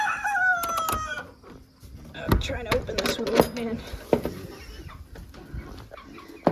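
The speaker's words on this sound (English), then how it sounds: "So there's a bunch of little chickens in here." A bunch of little chickens cluck in an enclosure, their calls scattered and fairly close amid rustling and handling noises, while a person talks nearby.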